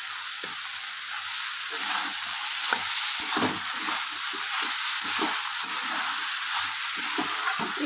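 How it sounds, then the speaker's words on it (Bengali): Prawns, pre-fried with salt and turmeric, are stirred and sautéed in a pan for a banana-flower curry. A steady close sizzle runs throughout, with irregular scraping and clinking strokes of the spatula. "একটু কষিয়ে নিয়েছি চিংড়ি মাছটা দিয়ে"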